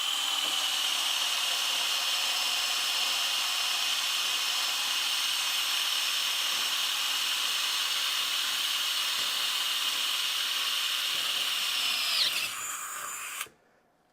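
A Diablo Metal Demon drill bit boring into steel gives a steady, high, whining grind for about twelve seconds, then it winds down and stops abruptly, close and loud.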